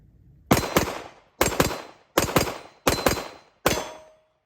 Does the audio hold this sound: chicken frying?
no